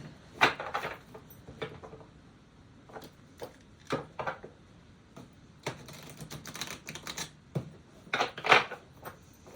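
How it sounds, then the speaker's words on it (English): Tarot cards being shuffled by hand, quiet irregular riffling and tapping bursts close by, with short pauses between clusters of crisp card slaps. "I want to give this a better shuffle than that."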